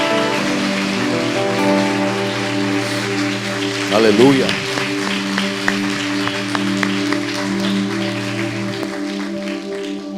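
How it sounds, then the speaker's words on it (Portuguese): A church congregation applauds during an evening worship service, a broad wash of clapping over sustained organ or keyboard chords, with a voice calling out briefly midway and the applause continuing to the end. "Aplauda Jesus bem forte."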